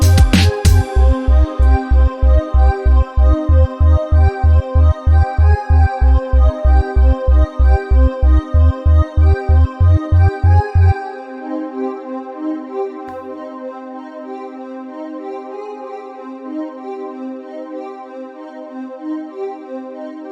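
Hip-hop beat outro in which a pulsing bass line and sustained synth pad play together in a steady loop, then the bass drops out and the pad rings on alone, fading slowly with no voices.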